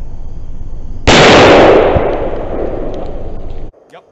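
A single loud gunshot, fired close by at an aluminum target, cracks sharply and then rolls into a long fading echo before cutting to quiet.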